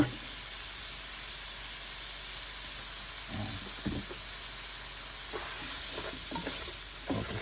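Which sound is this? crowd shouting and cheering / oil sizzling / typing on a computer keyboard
oil sizzling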